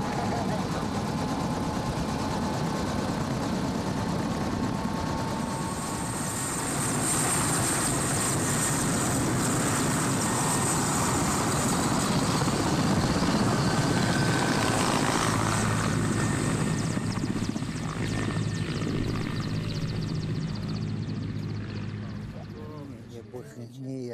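A helicopter flies on the way to refuel at a military base in Kamchatka, its steady rotor and engine roar continuous and fairly loud throughout, with other noise mixed in.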